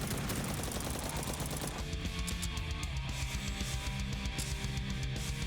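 Shotgun blasts from the Project Warlock video game, a dense run of rapid booming shots over continuous game music, loud and close throughout.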